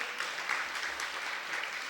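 Audience applause during a Jain monk's sermon in Sikar, Rajasthan: a steady, even wash of many hands clapping together at moderate distance, sustained without pause and with no talk over it.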